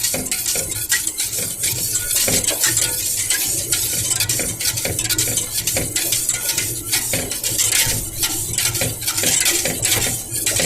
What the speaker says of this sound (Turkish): Hemen karıştıralım arkadaşlar.